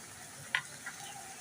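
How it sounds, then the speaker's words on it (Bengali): Chicken sautéing in a pan with ground spices and water gives a faint, soft sizzle, broken by one sharp clink of a utensil and a lighter tick just after. "এবার ভালো করে কষতে হবে যতক্ষণ না তেল ছেড়ে আসছে ততক্ষণ কষতে হবে"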